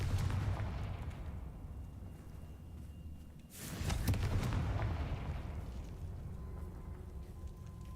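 Fire spell blasts in Hogwarts Legacy: dense, rumbling explosive bursts with a loud crackling boom near the middle, sustained roaring low-end noise throughout, no speech.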